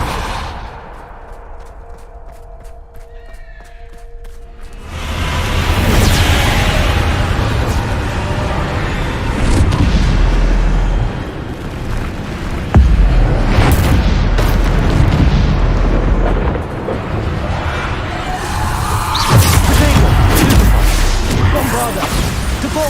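A Bombarda explosion spell in a video game lets out several deep, loud booms with rumbling bursts. They follow a quieter opening and carry on over about twenty seconds, with a voice partly mixed in.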